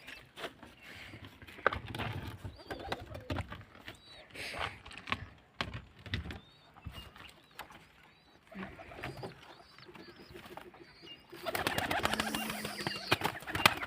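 Pigeons being let out from inside an enclosure coo in soft, scattered calls against light background noise, and a louder rushing, rustling burst near the end, with no talking.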